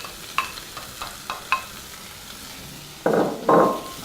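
Beef and mushrooms for beef stroganoff frying in a pan: a few sharp spoon scrapes and taps as the mixture is stirred, then two loud bursts of close sizzling near the end.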